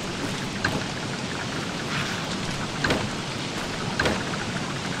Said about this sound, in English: the rain not gonna go anywhere not going away anytime soon